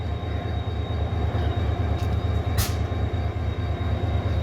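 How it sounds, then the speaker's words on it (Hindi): Pakistan Railways HGMU-30 diesel locomotive 8210 at Kotri Junction, a steady, rhythmic low engine throb close by, with a brief hiss of air partway through. "और ये HGMU 30R8210 की साउंड"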